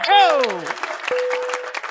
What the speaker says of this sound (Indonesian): Tepuk tangan dong, kita beri semangat.